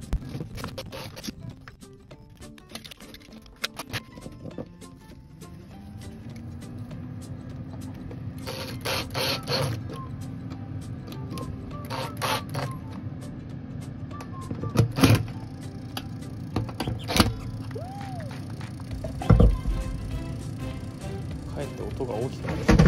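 Ventilation fan fitted into the wall of a self-built camper van, whirring steadily with a light, continuous scraping rattle, joined by scattered clicks, knocks and handling noises.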